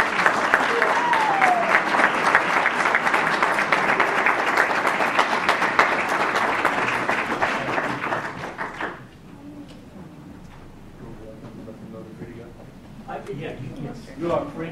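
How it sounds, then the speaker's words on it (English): Audience at a board of education meeting claps loudly and steadily for around nine seconds, then the applause drops away into quieter murmuring and talking. "So please give yourselves and everyone one more round of applause."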